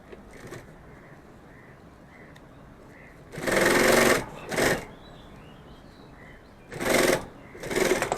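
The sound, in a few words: sewing machine stitching cloth for a pen pouch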